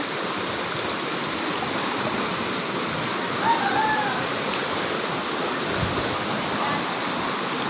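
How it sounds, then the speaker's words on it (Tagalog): Natural spring water flows steadily outdoors, a continuous broadband rush with a faint brief splash near the middle and no clear talk. "Look oh, mga bukal. Ang daming bukal."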